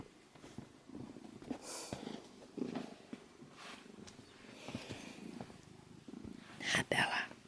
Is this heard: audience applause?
no